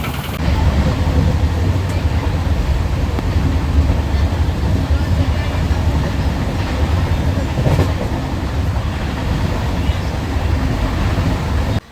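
Lichchavi Express passenger train running on rails out of Bhatpar Rani station, a loud, steady rumble and rattle of carriages filling the whole stretch from inside, with faint voices under the din.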